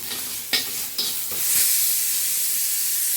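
Grated ginger and garlic drop into hot oil already tempered with peppercorns and cinnamon, setting off a loud, steady sizzle with a couple of stirring knocks at the start, the frying hiss swelling and holding close up.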